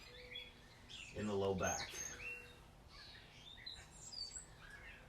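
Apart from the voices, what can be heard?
birds chirping outdoors in the morning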